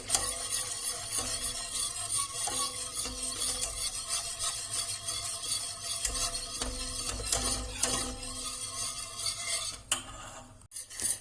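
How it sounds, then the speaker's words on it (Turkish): Custard cream being stirred steadily in a pot on the stove, a continuous scraping and rubbing of spoon against metal with faint clinks, close and fairly loud throughout. "Kremamızı sürekli bu şekilde karıştıracağız"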